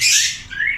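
Lovebirds squawk loudly at close range in an aviary, a harsh shrill call followed by a shorter rising squawk.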